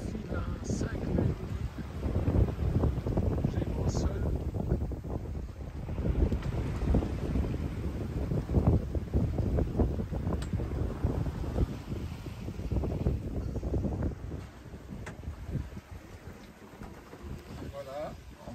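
A sailboat runs in a 19-knot wind off Turkey, with constant wind buffeting the microphone and water rushing along the hull, loud and continuous throughout.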